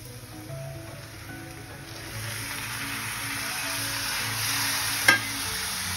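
Tomatoes and onions sautéing in a pan for a brinjal and black-eyed bean stir-fry, a soft continuous sizzle with occasional stirring and one brief utensil clink.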